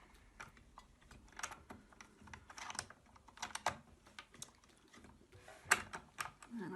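A sewing machine part being fitted during cleaning and oiling, with a quick run of small, dry clicks and light tapping handling sounds, close up and fairly quiet, with no talking.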